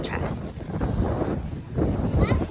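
Strong gusting wind buffets the microphone in a continuous low roar, loud and close throughout, on the San Francisco waterfront.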